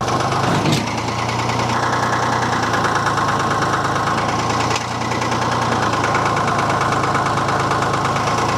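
A tractor engine runs hard while struggling for traction in swampy ground at an off-grid cabin pond, a loud, steady rumbling drone with knocking vibration and one brief dip in the middle, and no voices.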